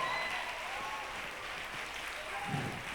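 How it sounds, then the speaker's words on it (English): Audience applause after young handbell ringers perform at a concert in Singapore, a steady wash of many hands clapping at moderate level, with a faint low voice briefly near the end. "Another round of applause, please, for the young future ringers of Singapore."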